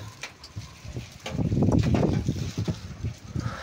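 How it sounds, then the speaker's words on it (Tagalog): Strong, gusty typhoon wind in Pampanga roars and buffets the microphone with a deep, rumbling rush that swells loudest midway, then eases into uneven gusts. "Lumakas na yung hangin."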